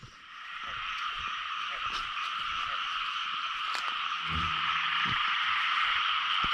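Frogs croaking at night in a rural field during a frog-catching outing, a dense steady chorus of calls filling the air, with occasional nearby rustling and brief low sounds.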